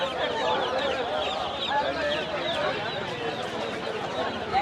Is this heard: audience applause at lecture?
no